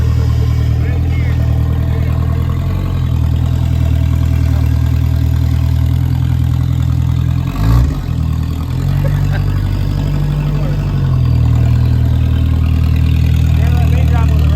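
A car engine idles steadily nearby, a low continuous rumble with a brief revving bump partway through, while people talk over it.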